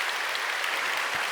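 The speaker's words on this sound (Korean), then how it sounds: "우리 새 아이를 뜨겁게 박수해 주실까요?" A church congregation applauds warmly during a Korean Sunday service baptism, a dense steady patter of many hands that fills the room.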